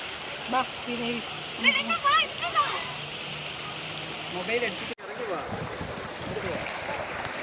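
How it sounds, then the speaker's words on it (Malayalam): A small stream flows through a forest in a steady, close rush of water, with people's voices talking over it at the start. "ഇവിടെ കുഞ്ഞരുവി ഉണ്ട്"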